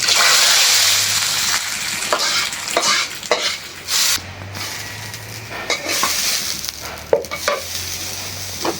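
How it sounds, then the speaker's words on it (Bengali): Garlic and onion fry hard in hot oil for a dal tempering, a loud close crackling sizzle with bursts of stirring and spattering that swell and ease over several seconds. "এখন দিয়ে দেবো যে রসুন, পেঁয়াজ, একদম কড়া করে ভাইজা বাগা দিলাম।"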